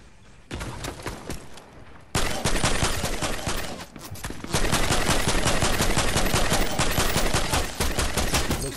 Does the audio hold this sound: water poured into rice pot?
no